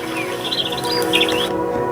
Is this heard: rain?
no